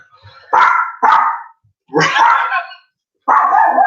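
A dog barks loudly nearby in four separate harsh barks, the first two close together, then gaps between the later ones.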